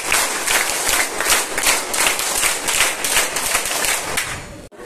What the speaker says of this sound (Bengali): স্কাউট তালি বাজাই জোরে।